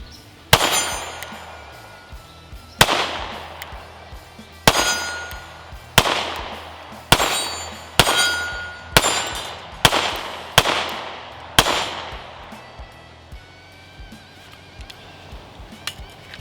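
A Sig P365 SAS pistol fired outdoors, about eleven sharp, loud shots at irregular intervals, each cracking and then ringing out, with a faster cluster in the middle.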